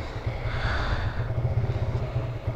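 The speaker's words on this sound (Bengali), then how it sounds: "আমি থ্রটলটা যখন বাড়িয়ে দিচ্ছি স্টার্ট অফ হয়ে যাচ্ছে" A Suzuki Gixxer motorcycle engine with a fault that makes it stall under throttle runs close by in a low, uneven, pulsing idle for a couple of seconds.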